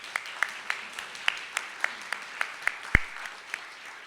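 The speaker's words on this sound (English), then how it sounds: "Let's give them a round of applause." Audience applause at an evening World Affairs Council of Dallas/Fort Worth event hosted at Circle T Ranch in Hillwood, a steady wash of many hands clapping with a few sharper, closer claps standing out for about four seconds.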